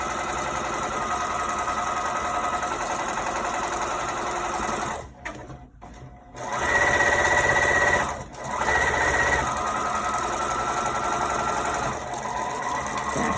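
Sewing machine running a line of stitching along the bottom hem of a dress: a steady, fast mechanical whir held for several seconds, a brief pause mid-run, then it resumes at full speed, close and loud.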